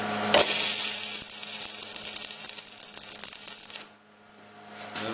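Tack welding on a trailer, a steady crackling, buzzing arc that runs for several seconds close by, then cuts out into near quiet.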